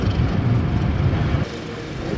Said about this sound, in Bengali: নির্ধারিত সময় থেকে মাত্র 4 মিনিট বিলম্বে আমাদের ট্রেন ফরিদপুর রেলওয়ে স্টেশন ছেড়ে গেল